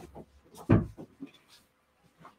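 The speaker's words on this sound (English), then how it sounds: "Just need to knock my door open." A door being knocked open gives one loud, heavy wooden thump in the middle, with faint knocks and rustles before and after in a quiet room.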